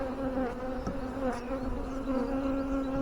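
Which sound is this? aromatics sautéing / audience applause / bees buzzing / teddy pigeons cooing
bees buzzing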